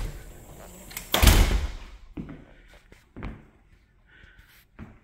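Front door of a double wide manufactured home opening and closing, a loud solid thud near the start followed by softer rattles and knocks, heard close with no one talking.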